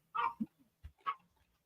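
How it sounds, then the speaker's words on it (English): A small dog gives a few short, sharp barks and yips, close and fairly quiet, with brief pauses between them. "That wasn't a bird that time. That was a dog."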